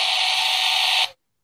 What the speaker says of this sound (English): Exclamation, here you go.